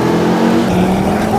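A Ford Focus RS engine pulls hard under acceleration, loud and close, its rising turbocharged growl filling a short burst.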